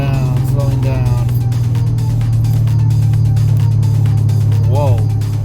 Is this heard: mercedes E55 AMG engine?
yes